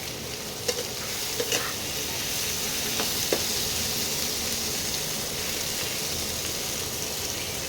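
Tomatoes fry in a pan with a steady, close sizzle, broken by a few sharp clicks of stirring.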